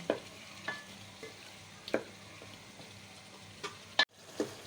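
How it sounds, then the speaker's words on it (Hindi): Tomatoes frying with potatoes in a pan, a faint low sizzle punctuated by a handful of sharp utensil taps and scrapes spaced about a second apart. "टमाटर को थोड़ी देर भूनूंगी ताकि नरम पड़ जाए।"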